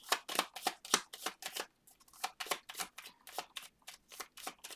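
Tarot cards being shuffled by hand in a steady run of about a dozen crisp riffling bursts, close and moderately loud, with no voices.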